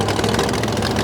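A Ram race truck engine idles after being fired up at an All Star Championship event, a loud, steady, rough mechanical rumble close by with no talking.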